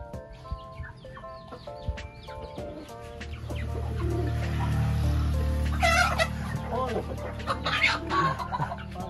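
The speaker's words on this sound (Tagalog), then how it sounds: "Huli ng manok." Chickens on a rural Philippine farm clucking and squawking as they are caught for slaughter, agitated bursts growing louder midway over a low background rumble.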